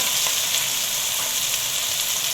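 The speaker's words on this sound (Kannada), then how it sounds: "ಟೊಮೆಟೊ ಚೆನ್ನಾಗಿ ಬೇಗ ಫ್ರೈ ಆಗುತ್ತೆ" Chopped tomato frying in a pan for a broken wheat bisi bele bath, giving a loud, dense and unbroken close sizzle with no talking.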